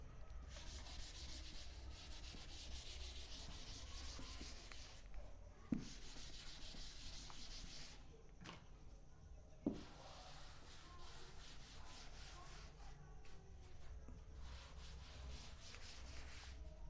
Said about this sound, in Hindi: अभी देखो, मैं इस डायग्राम को इरेज कर रहा हूं